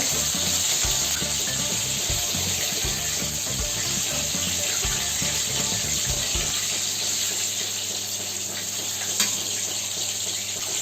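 Chicken leg pieces coated for homemade KFC-style crispy chicken fry in hot oil over moderate heat, giving a steady, dense sizzle and crackle that settles to a softer hiss, with no voices.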